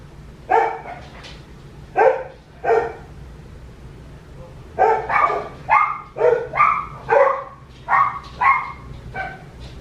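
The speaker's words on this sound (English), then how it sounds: "They're really barking." Several dogs bark in bursts, a cluster of sharp barks, a pause, then a longer run of repeated barks, fairly close and loud.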